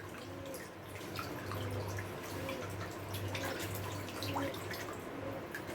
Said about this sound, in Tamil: நல்லா தண்ணியில் மிக்ஸ் பண்ணிடலாம்.